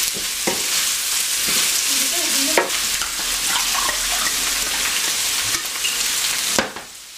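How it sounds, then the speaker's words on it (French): Lardons and white wine sizzle steadily and loudly in a pan for tartiflette, a dense continuous fry with a few sharp stirring knocks and scrapes, no voices. "je vais y rajouter les lardons de nouveau. Et je vais y ajouter le vin blanc."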